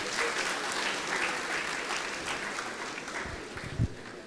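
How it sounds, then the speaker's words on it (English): Audience at a university orientation program claps steadily, a dense wash of applause from a large crowd heard at moderate distance for several seconds, fading slightly near the end with a single thump. "Big clap for all of you who have raised the hand."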